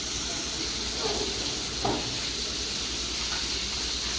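Fish fries in a pan on a stove, giving a steady broadband sizzle and hiss throughout, with a few brief clatters as the pieces are turned.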